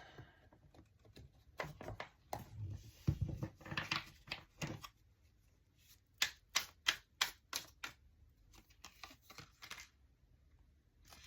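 Oracle cards are shuffled and pulled from the deck in a spiritual reading, giving quick papery riffles and flicks, first in a dense run, then a series of sharp separate snaps spaced about a half-second apart, fairly close and alone.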